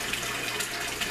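Water runs steadily through an aquaponic system with a bell siphon, a continuous close rushing and trickling flow with no pauses or voices.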